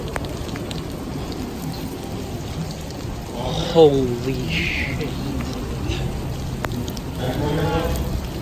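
Steady rain falls outdoors at the Yukon Striker roller coaster, a constant hiss throughout, while people talk and exclaim close by.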